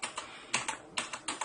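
Clicky typing on a Das Keyboard 4 Professional mechanical keyboard with Cherry MX Blue switches, a few separate clusters of sharp, crisp key clicks heard close up with no talking.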